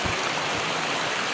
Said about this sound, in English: We have a river to ride in.